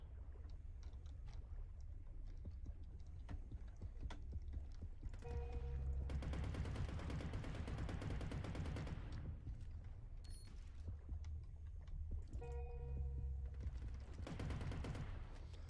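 Sustained automatic gunfire from an MP40-like submachine gun in the underwater shooter game Depth, rapid bursts rattling over a low rumbling ambience, with no talking.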